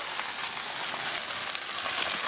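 Chorizo frying in a hot pan, a steady, dense hiss and crackle of sizzling fat heard alone, close and continuous.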